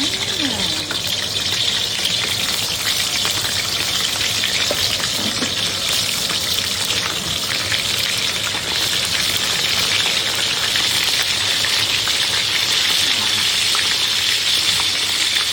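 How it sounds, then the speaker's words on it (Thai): Salted fish sizzles and spatters steadily in hot oil, a loud, continuous crackling hiss with no break from start to end. "ทอดปลาเค็มกิน"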